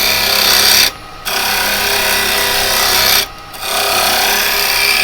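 Carbide chisel cutting wood on a spinning wood lathe: a loud, continuous rasping scrape, broken by two brief pauses where the tool lifts off.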